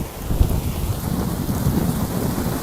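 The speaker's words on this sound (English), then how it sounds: "It looks like a thunderstorm to me." Heavy rain pours down steadily in a thunderstorm, a dense close wash of drops with low rumbling thunder rolling underneath throughout, with no talking.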